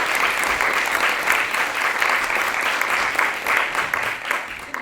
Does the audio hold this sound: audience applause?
yes